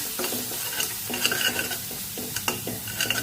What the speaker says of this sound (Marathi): हे मसाले आपण तेलात परतून घेऊया